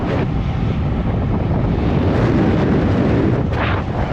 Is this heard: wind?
yes